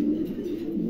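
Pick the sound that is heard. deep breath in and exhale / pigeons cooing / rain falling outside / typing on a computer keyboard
pigeons cooing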